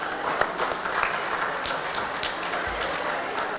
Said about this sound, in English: please give them a round of applause, Tiffany and Robin